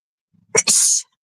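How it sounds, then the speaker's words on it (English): A single sharp sneeze, a brief intake burst followed by a loud hissing release, close to the microphone in an otherwise quiet space. "Now I have to sneeze"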